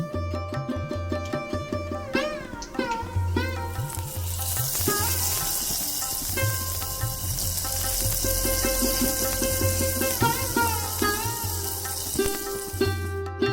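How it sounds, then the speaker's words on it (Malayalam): Fried onions being stirred into a jackfruit seed and mango curry, with a loud steady sizzle and occasional stirring, while tonal music plays over it. "ഇനി നമുക്കിത് കറിയിലേക്ക് ചേർത്ത് നന്നായിട്ടൊന്ന് മിക്സ് ചെയ്യാം"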